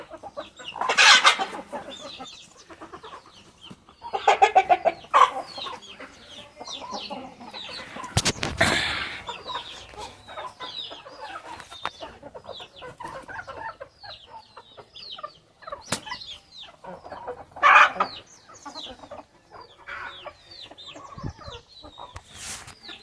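Medak breed chickens on a Telangana farm pecking at a corn cob, with scattered close clucks and squawking calls in irregular bursts among rustling and pecking, and no talk.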